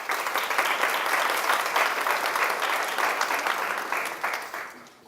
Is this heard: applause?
yes